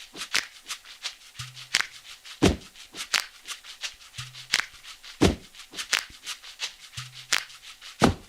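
A Logic Drummer stomp pattern plays as a repeating rhythm of sharp, loud stomps and claps, with a low thud recurring about every three seconds and no talking.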